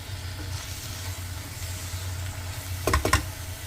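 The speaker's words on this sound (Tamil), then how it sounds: "தேங்காயும் சேர்த்துட்டு இதை இப்போ நல்லா மிக்ஸ் பண்ணிக்கலாம்" Ground coconut is stirred into sambar rice masala in a pan over a low, steady background sizzle, followed near the end by a quick pair of scraping strokes from the spoon.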